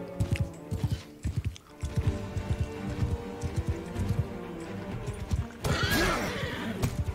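Horses in the video game Bannerlord II whinny loudly while hooves clip-clop in a quick, steady galloping rhythm, with another neigh rising near the end.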